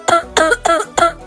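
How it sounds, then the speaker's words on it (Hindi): A woman coughs four times in a steady rhythm, each cough sharp, close and fairly loud, after drinking a cold drink in chilly weather; no talking. "इतनी ठंड में कोल्ड ड्रिंक पियोगी तो खासोगी ना"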